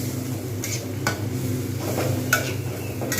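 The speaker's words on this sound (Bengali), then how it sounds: "এবারে মশলাটাকে খুব সুন্দরভাবে কষবো যাতে কাঁচা গন্ধটা চলে যায়" Spice paste being stir-fried on medium heat in a pan for moong dal with catla fish head, a soft steady sizzle under a few distinct scraping strokes of a spatula against the pan.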